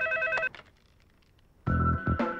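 Telephone ringing with a bright electronic tone in two bursts separated by a quiet gap, clear and close, with no talking.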